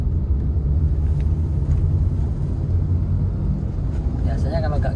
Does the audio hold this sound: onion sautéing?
no